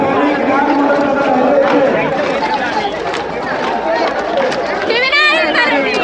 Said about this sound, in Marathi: हे संपूर्ण गर्दी या ठिकाणी जमलेली आहे